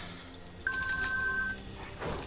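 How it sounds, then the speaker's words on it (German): Telephone ringing during a League of Legends stream: a thin electronic ring tone holding for about a second alongside game sounds and background music, moderately loud, with no talking over it. "Telefon klingelt."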